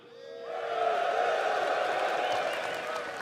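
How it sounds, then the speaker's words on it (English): A large audience at the CitizenCon fan convention in Manchester Central breaks into cheering and applause, swelling quickly from quiet into a sustained loud roar of clapping and whoops that holds to the end. "this is where you're all going to cheer"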